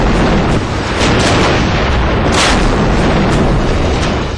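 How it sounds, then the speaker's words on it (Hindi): A T-90 tank at a Republic Day parade firing, a loud sustained boom and roar filling the whole clip with no quiet gaps, close and dense from start to finish. "ये T-90 टैंक है, जिसकी गर्जना दुश्मन के खेमे में हाहाकार मचा देती है।"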